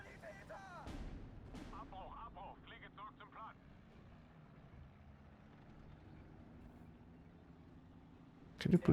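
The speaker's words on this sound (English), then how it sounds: "we're just gonna bomb this basically non-stop and then should probably be good." Bombing and artillery fire in the Steel Division 2 video game: distant booms land early, then a sudden loud explosion at the end, all faint beneath a person talking.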